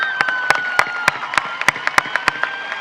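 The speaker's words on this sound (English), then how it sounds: "One more round of applause." A few people clapping at a high school graduation ceremony, a sparse run of about a dozen distinct claps spaced unevenly over a few seconds, with a steady tonal hum in the background.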